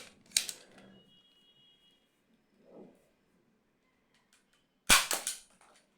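An X-Shot Kickback toy blaster fires a shotgun load of tiny darts, giving two sharp, loud snapping bursts several seconds apart with a quiet rustle between them, no talking.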